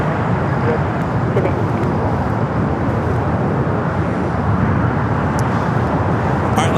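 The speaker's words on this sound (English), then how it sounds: "The Dreamliner coming in from Tokyo, Haneda, flight 126." Boeing 787 Dreamliner arriving from Tokyo Haneda on approach to LAX: a loud, steady jet roar sustained throughout, heard from the ground with faint background voices.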